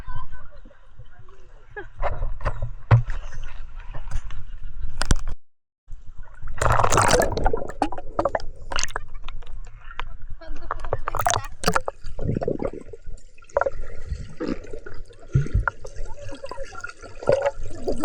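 Kayak paddling on sea water at Oceanica in Bohol, with irregular splashes and drips close by, coming and going while people talk over them.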